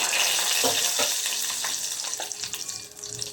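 Two chillies and bay leaves sizzle in half a spoon of hot ghee. A bright, close frying hiss carries a few spoon knocks and scrapes.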